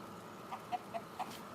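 A rooster on a farm gives a short run of four clucking calls, faint against a steady low background hum, with no talk over it.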